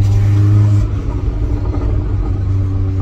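Tuned Golf 7R with a stage 1 remap revs hard, a loud, close engine roar that swells at the start, dips briefly, then holds a steady rumbling drone through the end.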